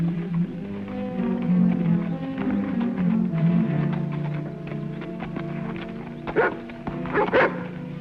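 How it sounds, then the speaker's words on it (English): A dog barks and yelps close by in a western setting, with a steady run of barks and whines, then a couple of sharper, louder yips near the end. "Quiet, Rebel. Good dog."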